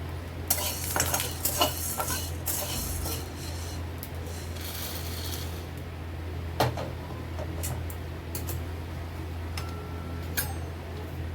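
Urad dal being dry roasted in a pan and stirred continuously with a spoon. The scraping and rubbing against the metal is steady, with occasional clinks and a low background hum, and no voices.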